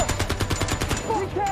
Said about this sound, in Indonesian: para tentara Amerika langsung menembak mati tentara SS